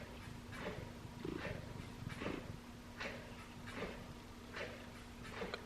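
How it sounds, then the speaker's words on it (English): A cat purrs close by in a soft, steady rhythm of repeated breathy pulses, faint and continuous with no talking. "This cat is distracting me so much."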